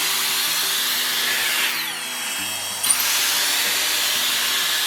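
A Dyson Airstrait hair dryer straightener blows steady, loud broadband airflow over wet hair, with a brief dip and shift in tone midway before the strong rushing hiss resumes, close up and without speech.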